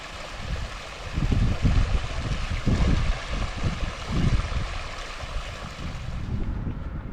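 Hot, near-boiling artesian bore water gushing uncontrolled from an outback Queensland bore, a continuous rushing roar with low surging pulses, close and steady, no voices.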